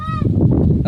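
A loud, close bird call rings out in harsh honking bursts, goose-like, over a brief stretch with no speech.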